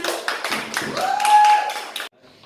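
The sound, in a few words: class clapping for a student group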